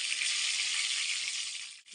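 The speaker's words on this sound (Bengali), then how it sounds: "এপাশে একটু খিচুড়ির সাথে বেগুন ভাজা করে নিচ্ছি" Eggplant slices fry in oil in a pan, giving a steady, dense sizzling hiss that runs almost unbroken, with a brief dip near the end.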